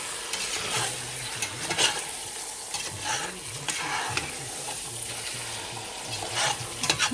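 Adobo being stirred in a hot pan, with a steady sizzle and repeated scraping strokes from the spoon moving through the sauce, close and continuous, no one speaking.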